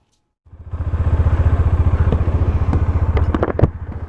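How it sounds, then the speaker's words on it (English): A Bajaj Dominar 400 motorcycle starts up close by and rides off, its engine settling into a steady, throbbing note with a few clattering knocks near the end. "Finally back onto the bike."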